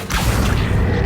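Accio summoning spell cast in the Hogwarts Legacy video game, a loud, dense magical whoosh with deep rumbling boom that swells right after a short onset and sustains for about a second.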